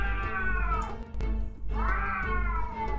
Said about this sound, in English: What the fuck with my neighbor's cat?